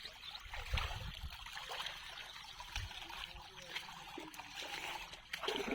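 Rainwater trickling and splashing across waterlogged village fields in heavy rain, a continuous fairly faint wash of flowing water with occasional low thuds and no speech.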